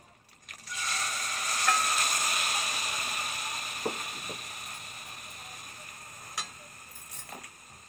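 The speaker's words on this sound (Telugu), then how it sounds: "ఇప్పుడు మనం పచ్చి రొయ్యలు వేసుకుని కొంచెం ఫ్రై చేసుకుందాం" Raw prawns dropped into hot oil, a strong sizzle that swells quickly and slowly fades, with a few sharp clicks and taps of a utensil near the pan.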